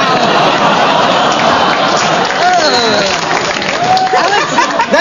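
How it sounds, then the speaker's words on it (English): Studio audience at a live television comedy panel show gives dense, steady applause mixed with crowd noise and murmuring, loud and close throughout. "That seemed like a pity round of applause."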